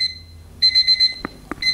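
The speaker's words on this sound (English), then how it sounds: "oh, it's that alarm again, let's put it on snooze" An alarm clock sounds a series of short, bright, high electronic beeps in quick repeated bursts after a brief pause, with a couple of dull knocks between them; close and clear, no talking.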